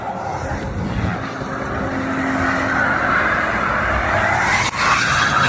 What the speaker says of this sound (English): it'll roast that tire all day